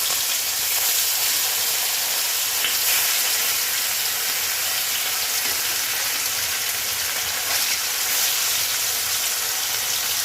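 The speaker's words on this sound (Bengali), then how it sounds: "এবার ভেটকি মাছগুলো এক এক করে ভেজে নেব" Bhetki fish sizzling in hot oil in a home Bengali kitchen, a dense, steady hiss and crackle that holds loud and close for the whole stretch with no voices.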